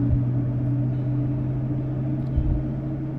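Engines of a LevelUp 737 airliner in the X-Plane flight simulator drone steadily with a constant low hum and no break.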